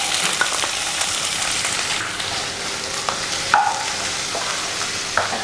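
Sliced onions sizzle as they are sautéed in a pan for a Kerala-style dry Bengal gram dish. The frying hiss is loud and steady, broken by a few clinks and scrapes of stirring.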